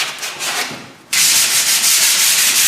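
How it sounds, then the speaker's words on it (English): Fine-grade sandpaper rubbed over a wooden table in a final finishing pass, a close, loud, continuous scratchy rasp with rhythmic back-and-forth strokes, strengthening after a brief softer start. "just doing a final pass over with the sandpaper, using a fine grade, just get rid of any final little bits"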